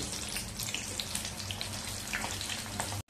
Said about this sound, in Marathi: त्याच्यासाठी आपण आधी मिरच्या तळूया.